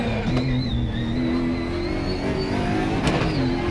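Aquila CR1 race car engine in the Raceroom Racing Experience sim at Hockenheimring, a loud, steady high-revving drone with a brief upshift blip near the end, running continuously with no talk.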